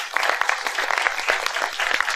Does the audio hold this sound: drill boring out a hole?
no